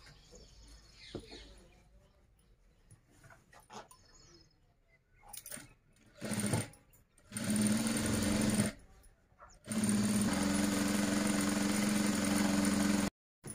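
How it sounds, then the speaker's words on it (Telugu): A sewing machine stitches the edges of cloth in loud, steady bursts of whirring, the later runs longer, separated by quiet pauses with faint handling clicks and rustles nearby. "ఇటు సైడ్కి కూడా ఇలా అంచులు కుట్టుకోవాలి."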